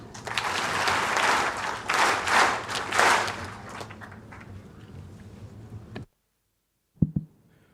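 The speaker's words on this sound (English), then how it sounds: "another round of applause for Professor" Applause from a small audience at an education and leadership congress swells and then fades over several seconds, stops abruptly, and a couple of brief knocks follow.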